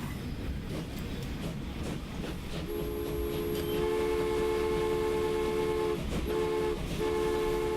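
A tram runs through a city in the Transport Fever video game, a steady rumble of wheels on track under a long two-tone horn or whistle that sounds several times, loud and close, with no talking.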